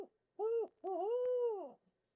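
A turkey hunter imitates an owl with his voice, giving two clear hooting notes, a short one followed by a longer drawn-out hoot, alone in quiet surroundings.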